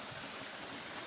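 Water spills down a small backyard pond waterfall built like a creek with steps, giving a steady, close rushing splash with no other sounds.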